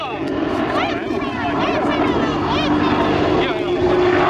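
An Apache attack helicopter roars overhead at an air show flying display, with a steady rotor drone and swelling engine pitch while a voice talks over it.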